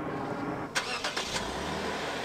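A restored, once-abandoned Lexus fitted with a new battery starts by push button: a few brief cranking bursts rise over steady background noise, then settle.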